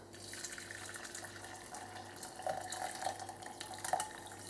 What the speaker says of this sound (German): Also, die Brühe gieße ich jetzt ab.